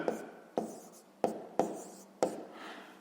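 Pen or marker strokes writing a math expression for a fifth-grade exercise, heard as five distinct scratchy strokes, each starting with a sharp tap and trailing off, close-up and fairly quiet.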